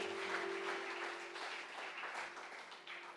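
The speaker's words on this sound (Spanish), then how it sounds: "Dale un fuerte aplauso a aquel que vive y reina." Congregation applauding during a Spanish-language church sermon, a steady wash of many hands clapping that holds for several seconds at moderate distance, easing slightly toward the end.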